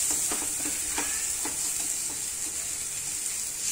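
Spice masala for pasta frying and being stirred in a pan gives a loud, continuous sizzle, with a few soft scraping stirs near the start and no voices.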